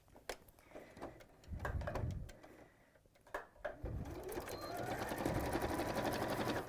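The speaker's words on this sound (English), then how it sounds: "start with a reverse stitch, sew along and finish with that reverse stitch as well" Domestic sewing machine stitching a seam through fabric layers, beginning and ending with a reverse stitch, a steady close motor whir building and running continuously in the second half after brief starts.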